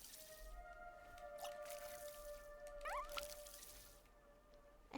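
A plant is watered in a video game: soft squishy drips and a brief rising synthetic chirp over a faint background hum, all quiet.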